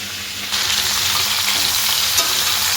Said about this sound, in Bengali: একদিকে থোর কুচিয়েছি, একদিকে ভাজছি।